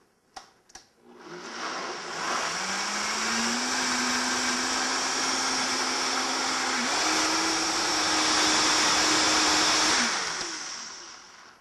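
A kitchen blender purees cabbage and cauliflower, starting after a couple of sharp clicks and then roaring steadily and loudly for about eight seconds, its pitch stepping up partway through before it winds down.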